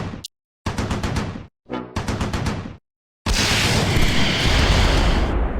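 Bazooka shots and explosions in the World War II strategy game Close Combat 4, set in the Battle of the Bulge: several loud bursts separated by gaps, followed by a sustained roaring blast that fills the last two seconds.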